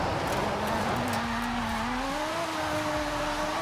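A car races in the video game Forza Horizon 5, its engine holding a loud steady drone whose pitch climbs gradually under a bed of road and tire noise, with no talking.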